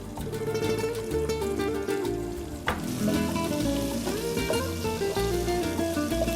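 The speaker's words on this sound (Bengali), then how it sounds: "এখন আমি এক মুঠ আন্দাজ পেঁয়াজটা একটু ব্রাউন করে নিব।" Chopped onion browns in a hot frying pan, giving a continuous, close sizzle with occasional stirring scrapes and clinks and no talking.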